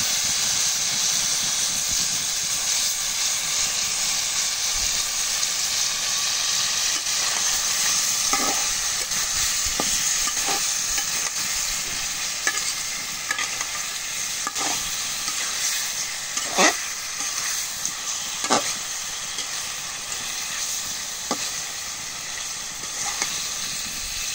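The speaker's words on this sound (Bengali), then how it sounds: "এখন মাছগুলো দিয়ে দিই" Fish pieces drop into hot spiced oil and fry with a loud, continuous sizzling hiss, broken by occasional stirring scrapes and soft clinks in the pan.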